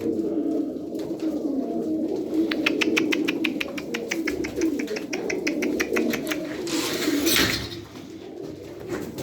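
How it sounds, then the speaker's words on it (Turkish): A sarı kır pigeon coos close by against a steady low murmur, and a rapid train of clicks or wing flutters runs through the middle, followed by a brief loud burst near the end. "Gerçekten çok güzel bir kuş."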